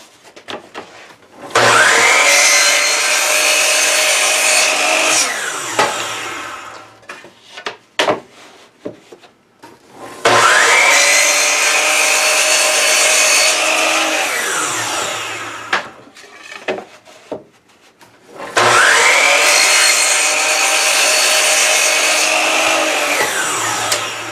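Three long passes of a power saw cutting cherry wood for a spice box, each a loud, steady whine that rises, holds for several seconds and winds down, separated by short quiet gaps.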